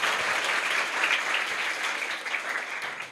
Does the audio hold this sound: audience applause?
yes